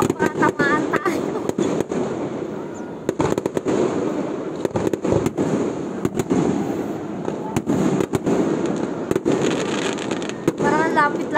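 Fireworks exploding on Christmas Day at an SM mall display, rapid sharp cracks and booms repeating irregularly throughout, some with whistling trails, while people talk nearby.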